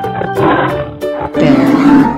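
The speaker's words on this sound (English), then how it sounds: "Lion." A lion gives a short, loud, rough roar in two bursts, close and unaccompanied.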